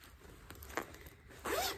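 A short zipper pull, a faint rasp followed by a louder, quick zip near the end, close and otherwise quiet.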